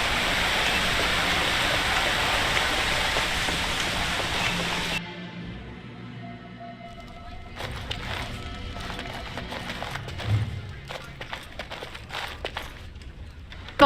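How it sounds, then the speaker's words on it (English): Rushing water from a waterfall beside a mill in Dragon Age Origins, a loud steady roar for about five seconds that drops away to quieter ambience with scattered clicks and footsteps. "right underneath the mill, right here, by a waterfall"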